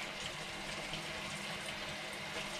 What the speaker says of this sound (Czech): Pustíte si studenou vodu